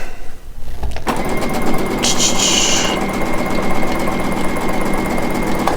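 A sewing machine stitches fabric strips in a steady fast run of needle clatter, close and loud, after a quiet start.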